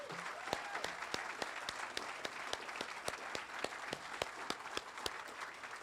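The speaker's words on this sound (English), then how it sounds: "I want to give another round of applause to our musical talent, Miss Otha McClinton and Miss Gloria Quinton." Audience applauds musical performers Otha McClinton and Gloria Quinton at the St. John Encampment Commons and UFCU Pavilion opening, a sparse scattering of distinct claps from a modest crowd, steady and moderately near with no talk.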